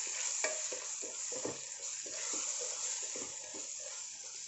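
Spatula stirring tomato rice masala with coriander powder and garam masala in a pan, a soft sizzle under a rhythmic run of scraping strokes, close and fairly quiet, with no talking.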